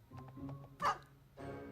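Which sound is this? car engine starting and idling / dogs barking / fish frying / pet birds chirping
dogs barking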